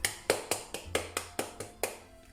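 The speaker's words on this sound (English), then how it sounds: "this is a mini applause for you" A single person gives a short mini applause, eight distinct, evenly spaced hand claps close to the microphone, sharp and crisp, with a quiet fade after the last one.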